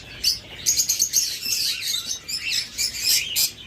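A pair of creamino opaline pet birds, one male and one female, chirp steadily and brightly at close range in short, overlapping tweets, with no talking.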